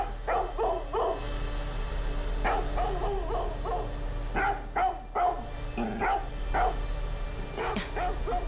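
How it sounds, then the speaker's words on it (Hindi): A dog named Tessie barks repeatedly, a string of sharp barks and yips in uneven bursts over a steady low hum, fairly close and loud with no talking. "आज ये टेसी बहुत भौंक रहा है"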